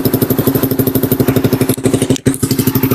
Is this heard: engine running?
yes